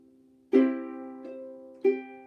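A ukulele sounds three strums of a swing pattern mixing full strokes with partial up and down strums. The first ringing chord is followed by a light brush and then another sharp strum, played close and quiet with no voices.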